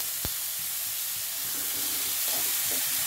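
Capsicum and ginger garlic paste frying in a pan for a colourful pasta, a steady hissing sizzle with a sharp clatter at the start and soft stirring knocks underneath, close and continuous, no talk.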